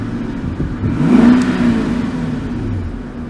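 A 2008 Infiniti M engine revved once at night, the smooth note rising quickly to a brief peak and settling back to a quiet idle, heard close with no talking.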